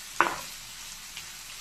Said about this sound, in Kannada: ಇವಾಗ ಈರುಳ್ಳಿ ಹಾಕ್ಕೊಳ್ಳೋಣ. ಚೆನ್ನಾಗಿ ಕೆಂಪಗಾಗೋವರೆಗೂ ಉಟ್ಕೋಬೇಕು.